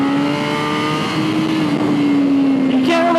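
A 2013 BMW S1000RR HP4 motorcycle engine at steady high revs, heard onboard, holding a loud sustained whine that creeps slowly upward in pitch before a brief gear-change blip near the end.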